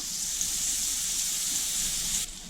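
Butter melting in a frying pan that still holds residue from frying cottage-cheese pancakes gives off a steady, soft sizzling hiss that stays even throughout and then eases slightly near the end, with no voices.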